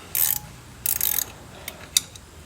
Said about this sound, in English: I'm going to go ahead and try double nut and pull these studs out